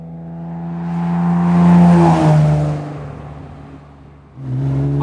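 A Jaguar C-Type replica with a limited-slip diff drives through Scotland. Its engine note climbs and swells to a loud peak, then eases off, dips, and rises again as it accelerates near and clear.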